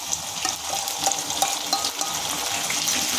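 Boiled potatoes frying with garlic and white mustard paste in a pan, a close, continuous sizzle with faint scraping stir strokes rising and falling across it, no voices present.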